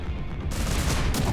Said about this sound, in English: Oh, so we got proximity explosion